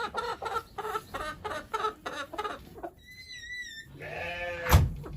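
On a farm, chickens cluck in a run of short, rhythmic calls, followed by a bleating goat or sheep and a brief bump near the end.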